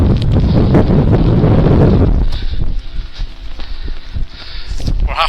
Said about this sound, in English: It can be quite windy at this bit, so we're open to the elements.